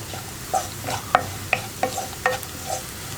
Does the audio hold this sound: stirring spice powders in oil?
yes